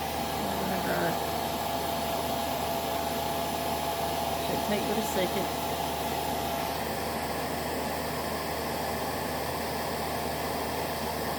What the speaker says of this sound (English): You can use a hair dryer, which is what I do.